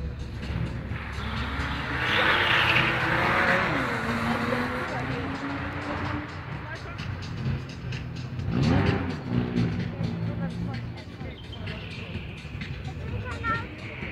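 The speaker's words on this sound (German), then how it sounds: "So, jetzt der Boxster S." A Porsche Boxster S sports car rated at 280 PS on a qualifying run at an indoor Hamburg trade fair event, with engine tones rising and sweeping past at moderate distance under an announcer's voice and crowd babble.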